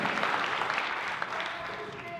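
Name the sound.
round of applause from comedy audience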